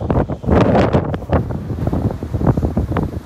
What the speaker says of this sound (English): it's windy, it's dying down ever so slightly